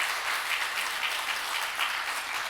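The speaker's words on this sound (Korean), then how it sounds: "그게 정답이라고 생각하시면 우리 여성분들 박수." An audience of women at a humanities lecture breaks into steady, even applause, a sustained wash of many hands clapping at a moderate distance with no voices over it.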